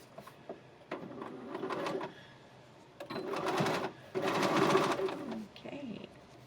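A sewing machine stitching a felt clutch, running in several short, steady bursts of mechanical whirring with brief pauses between them, close and clear.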